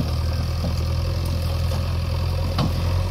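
A JCB excavator and two tractors clear farmland, giving a steady low engine drone at moderate distance with a short knock near the end.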